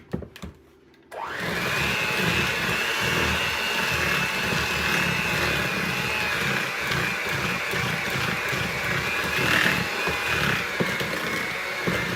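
An electric mixer whirs steadily as it beats dry flour mixture into peanut butter cookie dough, starting abruptly after a few quiet clicks and running at a constant, close, buzzing pitch.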